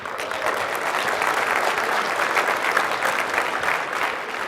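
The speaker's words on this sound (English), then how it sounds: "So give yourself a round of applause." A keynote crowd at EVE Vegas 2015 applauds the EVE Valkyrie team, sustained, loud clapping from a large hall audience that holds steady throughout without speech.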